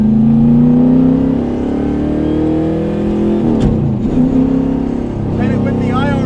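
A 600 HP 1972 Corvette autocrosser engine roars loudly from inside the car, its pitch holding high then dipping and climbing again as it accelerates, with voices speaking over the engine noise.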